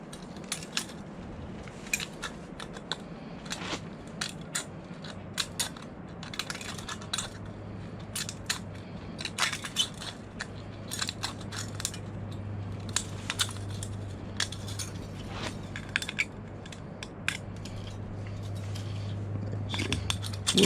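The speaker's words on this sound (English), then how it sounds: "These aren't the greatest scissors for this, but I'm trying to nip off all the little burrs" Quick metallic snips and clicks of scissors trimming burrs off a metal penny stove repeat irregularly, close by, over a steady low mechanical hum.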